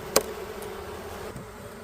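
Honey bees buzz inside a hive as a low, steady drone, close and fairly faint, with a brief sharp tap near the start.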